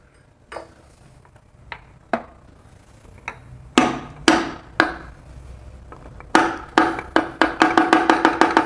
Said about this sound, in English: So I'm going to take my hammer here.